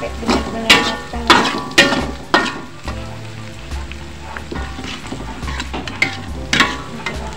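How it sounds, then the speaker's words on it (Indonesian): Crushed galangal and spice paste sautéing in a pan for an eggplant in oyster sauce dish: a steady hot sizzle with clattering utensil strokes at a regular pace early on, then softer stirring. "Lengkuas yang udah dikeprek, kita tumis bumbunya sampai benar-benar matang"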